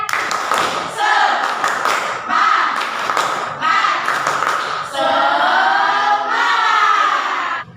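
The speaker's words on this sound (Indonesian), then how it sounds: "kita melakukan tepuk semangat terlebih dahulu" Schoolchildren in a classroom repeat a rhythmic spirit clap during a lesson on Archimedes' principle: several sharp, close bursts of patterned clapping, mixed with the class chanting loudly together.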